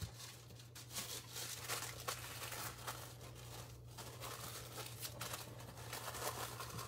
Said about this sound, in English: So I'm just going to take this and fold it.